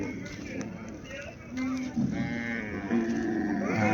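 Cattle moo repeatedly at a cattle show of heifers, bulls and dairy cows, several drawn-out calls rising over a busy crowd murmur and nearby voices.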